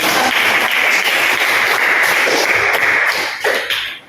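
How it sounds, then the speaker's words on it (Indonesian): Classroom of students clapping together, a loud, close, dense patter of hands that holds steady before tapering off into a few scattered claps at the end. "Beri tepuk tangan."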